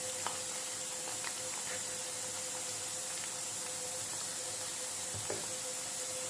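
Papaya sticks frying in oil in a pan give off a steady, soft sizzle and hiss, with a few faint clinks and stirring sounds and no talking.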